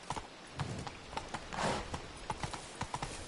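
Roach, the horse in The Witcher 3, gallops in quick rhythmic hoof clip-clops over ground, close and moderately loud, with a faint snort midway and no talk.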